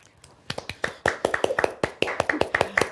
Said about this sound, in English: Round of applause from the studio posse and the crew.